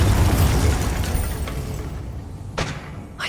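A Bombarda spell explodes in Hogwarts Legacy with a loud, dense low burst that fades into rumbling debris, followed by two sharp, brief cracks near the end.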